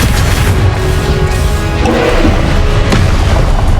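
A Confringo blast spell erupts in Hogwarts Legacy, a loud, dense booming crash with heavy rumble and whooshing debris sustained throughout, no speech over it.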